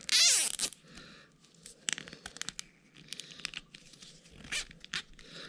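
A plastic zip tie is pulled tight around an electrical connector on a 2021 Electric Motion Escape R trials bike, opening with a loud fast ratcheting zip, then scattered clicks and rustling handling noises.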